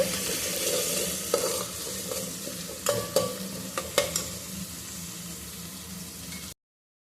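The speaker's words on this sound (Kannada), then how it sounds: "ಸ್ವಲ್ಪ ಫ್ರೈ ಮಾಡ್ಕೊಳ್ಳೋಣ." One large onion frying in a pan in a village home kitchen, a steady sizzle over the hum of a kitchen chimney fan, with a few sharp spoon scrapes and taps of stirring, no voices.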